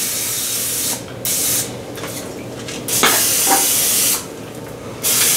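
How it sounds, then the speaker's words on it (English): Several short bursts of hissing cooking spray onto waffle maker plates, each lasting about a second, separated by brief pauses, close and loud. "open these up and spray the insides"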